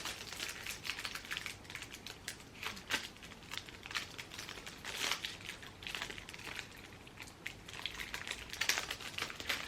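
Plastic foil crinkling while a package is unboxed, giving a continuous close-up run of crisp, irregular crackles and rustles.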